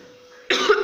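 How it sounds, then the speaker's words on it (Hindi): A single cough bursts out after a near-silent moment, loud and close, with a rough, breathy tail. "खांसी आ गई है बर्फ़ का देख के"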